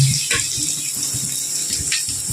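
Mustard seeds, urad dal and dried red chillies crackle in hot oil in a pan for mor kuzhambu, a dense, continuous hissing sizzle with quick popping spatters, close and fairly loud.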